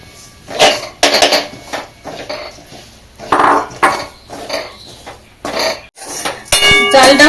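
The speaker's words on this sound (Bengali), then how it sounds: "ঘিটা গরম হয়ে গেছে, চালটা দিয়ে কিছুক্ষণ নেড়ে নেব।" Rice being stirred in hot ghee in a pot for payesh, with repeated metallic scrapes and knocks of a spoon against the pot in irregular bursts, close and loud, no speech.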